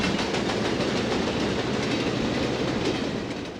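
A Southern Pacific Fairbanks-Morse Trainmaster diesel train on the San Francisco Peninsula commute line rushes past close by, with loud rolling wheel noise and a rhythmic clickety-clack that fades slightly at the end.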